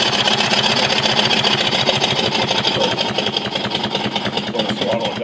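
A homemade steam engine on a boat chugging down a lake at about 5 miles per hour runs steadily at full power, giving a loud, continuous, rapid mechanical chugging and clatter with no pauses and no talking.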